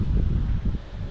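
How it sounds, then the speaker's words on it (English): Steady outdoor wind buffeting on higher ground in Mosman Park, Perth, with low rumble and gusty noise, continuous throughout, fairly loud and close with no voices. "Ooh, getting windy out here."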